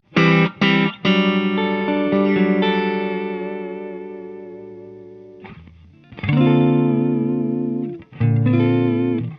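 Loud electric guitar chords distorted by a JHS NOTADÜMBLË overdrive pedal ring out with a bright, fizzy high-end edge, sustaining and decaying before fresh strums hit again, no voices.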